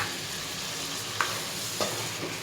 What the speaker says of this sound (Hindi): अब मैं इसे मज़ीद 5 मिनट फ्राई करूँगी।